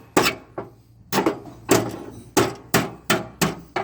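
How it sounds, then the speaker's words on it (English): A hammer knocks at a rusted lawnmower pulley to loosen it: about eight sharp metallic blows in an uneven rhythm, close and loud, each ringing briefly in an otherwise quiet outdoor setting. "I can just hammer it out"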